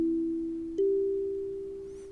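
Two clean electronic tones from Sonic Pi sound one after the other, each held and slowly fading, like a soft synthesized chime.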